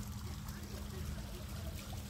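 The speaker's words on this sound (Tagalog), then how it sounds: "Fountain dito." Water trickling and splashing in a fountain at a desert tent site, a steady faint wash of running water under a low background hum.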